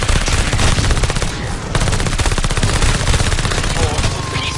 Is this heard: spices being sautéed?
no